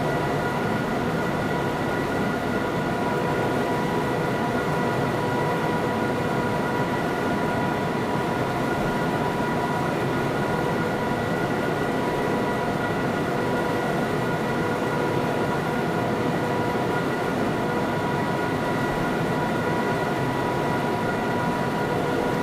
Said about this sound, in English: I'm just going to idle the power and allow the train to coast